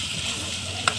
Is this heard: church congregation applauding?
no